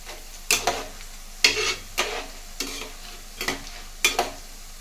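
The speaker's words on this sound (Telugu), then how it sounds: "ఇది కొద్దిగా బాగా వేగిన తర్వాత మనం తీసివేయాలి" Sweet boondi fries in oil over a medium flame, with a quiet sizzle broken by repeated short scraping strokes of a spoon every second or so.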